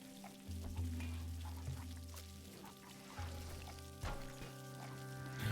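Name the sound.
pouring water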